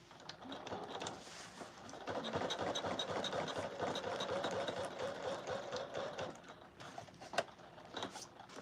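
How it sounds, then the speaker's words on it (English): A sewing machine stitching a bag sleeve down at an angle in a boutique, its motor running in a steady faint whir with a brief stop and restart near the end, no talk. "now I'm stitching the sleeve down in the angle that I wanted"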